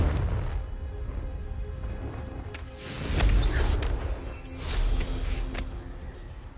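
Fiery Confringo explosion spell cast in Hogwarts Legacy, heard as a couple of loud booming blasts over a rumbling low background, with sharp crackling bursts near the middle and toward the end.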